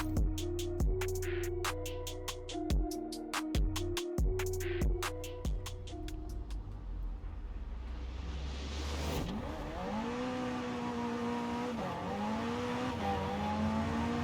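An ATS GT supercar in the Forza Horizon 4 racing game launches hard off the line, its engine revving loudly and rising through several quick gear changes before settling into a sustained, wavering high-pitched drone.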